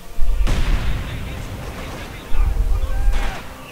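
Gunfire and artillery booms from the Company of Heroes 2 battle on the Highway to Baku map come in loud bursts, with heavy low rumbles at the start and again later, and game voices shouting under the shots.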